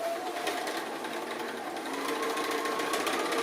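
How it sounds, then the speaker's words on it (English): A sewing machine stitches a 1/4 inch seam across quilt strips, giving a steady, fast mechanical whir that runs evenly throughout at moderate volume. "we're just going to sew, we're just using 1/4 inch seam allowances, and we're just going to sew"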